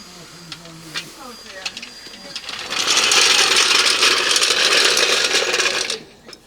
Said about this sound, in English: It's really hard on this jack to drop things down gently.